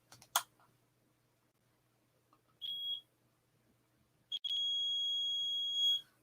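A shadow detector, a ghost-hunting gadget, sounds a brief high-pitched beep and then a longer sustained beep after a pause, in a quiet room with a few faint clicks.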